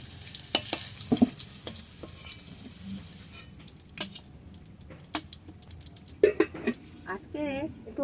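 Onions frying in oil in a pan for chicken kosha, a faint sizzle under intermittent spatula scrapes and taps, with someone talking at times and brief clatter near the end.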